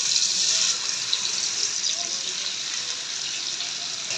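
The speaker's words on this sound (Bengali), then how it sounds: "এখন ভাজা মাছগুলো মাখা মাছগুলো দিয়ে দিল।" Small fish coated in a spiced marinade sizzle loudly and steadily in hot oil, a dense continuous frying hiss close by with no pauses.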